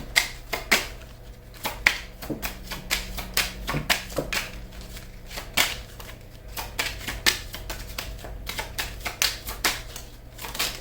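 Tarot cards riffled and shuffled by hand, a dense run of quick crisp slaps and flutters repeating steadily at close range, with no talking over it.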